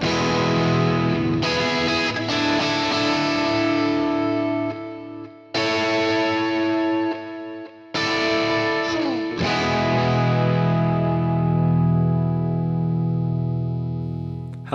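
Electric guitar playing a song strums sustained, shimmering chords with a swirling chorus effect, ringing out and decaying between strikes, loud and close.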